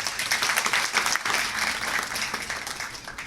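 Audience applause in a Hindi-speaking class or lecture hall, a dense steady wash of many hands clapping, fairly loud and close, continuing throughout.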